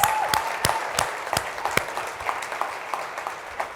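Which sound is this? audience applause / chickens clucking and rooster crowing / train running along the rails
audience applause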